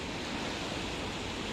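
Sea waves break on the shore of a village beach during extreme weather, a dense, continuous wash of surf noise at a steady level with no voices.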